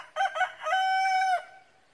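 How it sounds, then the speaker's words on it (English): A backyard garden rooster gives one full cock-a-doodle-doo close by. Two short rising notes lead into a long, loud held cry that cuts off, with no talk. "He's become quite the annoying little rooster."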